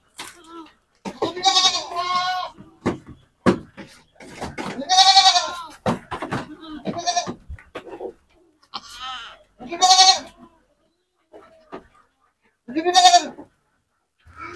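Goats bleating in a goat pen, repeated loud wavering cries close by in irregular bursts separated by short quiet gaps, with no talk.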